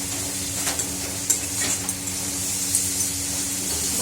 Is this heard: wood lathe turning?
no